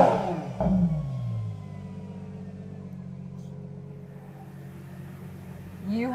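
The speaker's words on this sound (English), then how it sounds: "I think it's time we need to hear the naturally aspirated V12" A Ferrari Purosangue SUV's naturally aspirated V12 revs hard once near the start, then settles into a steady idle hum, with a second blip rising at the very end; loud and close, with no talk over it.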